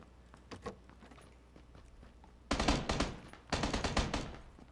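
Automatic gunfire in PUBG Battlegrounds, with a faint shot or two early, then two long loud close bursts of rapid rattling fire, each lasting about a second.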